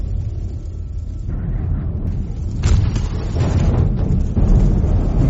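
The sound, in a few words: storm rumbling in the movie Interstellar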